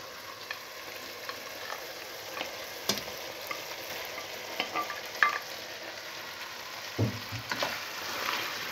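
Veal frying in a pan with softened onion, peppers and tomatoes: a quiet, steady sizzle with scattered crackles and occasional stirring clicks, heard alone.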